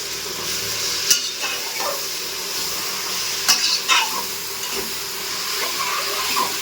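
Mint and coriander sizzle in hot oil while being stirred for a mushroom biryani, a steady close hiss broken by a few sharp utensil scrapes and clinks.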